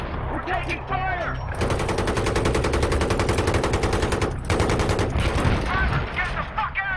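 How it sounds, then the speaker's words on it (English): Sustained machine gun fire rattles loudly in the Battlefield 3 campaign, dense rapid bursts lasting several seconds with a brief pause, mixed with other battlefield noise. "We're taking fire."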